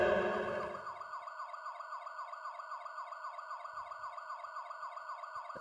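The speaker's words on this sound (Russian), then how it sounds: "Второй раз едет скорая." An ambulance siren sound effect in an online Mafia game wails in a steady, rapid up-and-down pattern, loud and close, continuing without pause after a brief burst of noise at the start.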